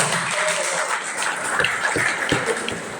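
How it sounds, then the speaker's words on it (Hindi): An audience at a school event in Buxar claps to welcome teachers, producing a dense, washy burst of applause with a few louder claps near the end. "तो हम चाहूँगा कि तालियों से सर और मैम का स्वागत किया जाए।"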